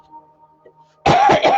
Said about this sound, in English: I'm coughing like crazy today